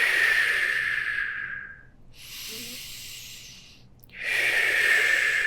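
Loud, close breathing during yoga practice: a long hissing exhale, a softer pause-like breath, then another strong rushing breath, with no talk.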